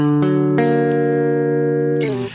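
A sustained augmented chord rings out on a keyboard-like instrument, re-struck once, then shifts slightly near the end before fading; no talking.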